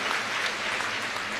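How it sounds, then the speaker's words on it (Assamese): A crowd at a public gathering claps in dense, sustained applause, a continuous even wash of hand claps with no voices standing out. "এটা দীঘলীয়াকৈ হাত চাপৰি বজাই দিয়ক তেখেতসকলৰ কাৰণেও"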